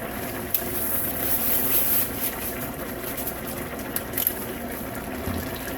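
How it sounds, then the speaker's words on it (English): Water pouring and rinsing out packages into a pot of leftovers casserole on a kitchen stove, a steady splashing gush that continues throughout with brief louder spurts. "Be sure to rinse out your packages as well with water."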